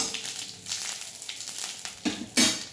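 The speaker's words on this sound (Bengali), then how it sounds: "তো এই সময় গ্যাসের ফ্লেমটা কম রাখবো, জাস্ট একটু ফ্রাই করে নিলাম" Fennel seeds fry in oil over a low gas flame, giving a close, steady sizzle with small crackles and a couple of sharper pops near the end.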